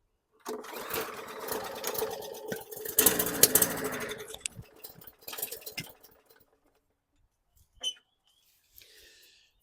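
A repaired lawn mower's small engine catches and runs, a loud rough clattering burst for several seconds that sputters and dies away, followed by a couple of faint knocks.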